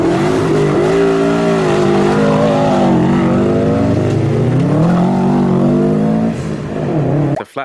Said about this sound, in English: The flat-4 engine has a more aggressive, throaty, and low-pitched growl.